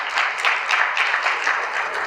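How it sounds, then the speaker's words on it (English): An audience applauds during a keynote address at an undergraduate research conference: a short, dense round of clapping that stays even throughout, with no talking over it. "That's clap worthy."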